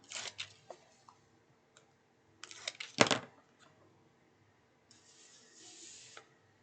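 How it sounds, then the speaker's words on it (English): Craft tape peeled away from a project in short rasping strips, with a few soft clicks and handling noises between them, then a longer, steady peel near the end, all close and fairly quiet. "So I'm just going to peel away my tape."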